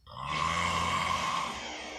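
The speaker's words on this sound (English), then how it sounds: "That dude is snoring." A man, an uncle, snores loudly in his sleep: one long, harsh, rasping snore that holds steady for nearly two seconds and then fades, close and alone.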